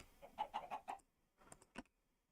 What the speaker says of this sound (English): these are older chickens